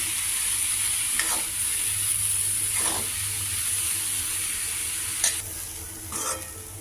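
A beans curry with grated coconut and poppy seed powder is stirred in a pan over a soft, steady sizzle, with several distinct scraping strokes spaced a second or two apart, near and without speech.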